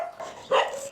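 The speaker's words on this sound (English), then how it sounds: "Dogs. Very small dogs." Very small dogs barking at a clinic where several dogs and puppies were brought in, a short close yap rising over fainter whimpering and yipping in a brief burst.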